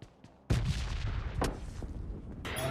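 Gunfire in PUBG Mobile Lite during a duo versus duo match: a burst of rapid, dense shots and booming reports from about half a second on, with sharp cracks near the end and no voices.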